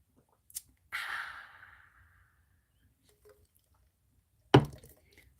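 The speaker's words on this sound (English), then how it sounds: "Let me clear my throat." A person clears their throat close to the microphone: a short rasp, a longer breathy rough burst that fades out, then a sharp, forceful final clearing after a pause in otherwise quiet surroundings.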